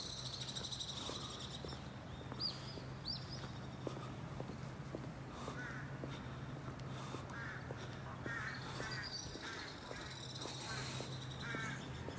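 Crows caw several times over an empty town street at evening, with other birds chirping in the background and a low steady hum underneath; the calls come at a moderate distance and are fairly faint.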